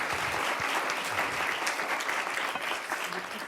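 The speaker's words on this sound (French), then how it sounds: "On peut les applaudir." Audience at a presentation applauds steadily, a dense wash of many hands clapping, moderately loud and even throughout with no talk over it.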